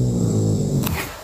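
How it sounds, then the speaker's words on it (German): A dog snores close by, a low rumbling drone with a raspy breathy edge that fades out toward the end. "das ist der Hund, der ist am Schlafen, der ist am Schnarchen."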